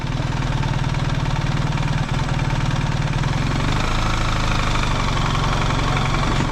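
A BMW R1300GS Adventure motorcycle with automatic transmission rolling very slowly, its engine giving a loud, steady low-pitched pulsing throb close up, with rumbling wind or road noise throughout.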